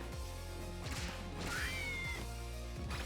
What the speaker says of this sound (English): I do not know why the harpy meowed like a bird.